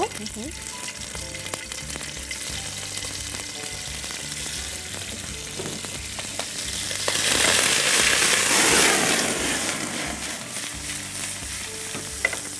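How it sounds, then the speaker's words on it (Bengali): Bacon-wrapped prawns fry one by one in a hot pan with a constant close sizzle and crackle that swells into a louder, hissing burst midway, then settles back. "আমাদের প্যানটা যখন গরম হয়ে যাবে আমরা এটার মধ্যে একটা একটা করে আমাদের শ্রিম্প অ্যাড করব"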